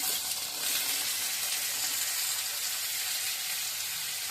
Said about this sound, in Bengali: আলুগুলো ছেড়ে দিচ্ছি, আলুটা ভাজা হয়ে যায়